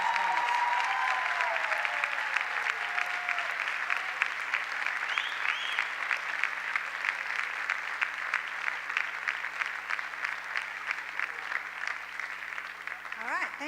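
Sustained audience applause at a chapel honors ceremony for departmental honors winners, dense even clapping held throughout, with a brief voice at the start.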